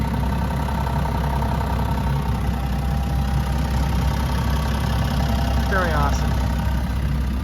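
A 2025 Ram 1500 Limited Longhorn 4x4's 3-liter twin-turbo Hurricane inline six idles steadily, a low, even engine hum that stays constant throughout while someone speaks briefly over it.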